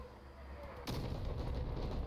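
Artillery fire in the vehicle combat game Crossout: a sudden heavy blast lands partway through and leaves a dense, rumbling barrage and crackle rolling on afterward, loud and close.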